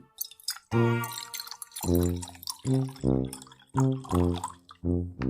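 Pink-coloured water is poured into dirty water in a comic stage play, making a close, fairly loud run of gurgling glugs in uneven pulses, with no talk over them.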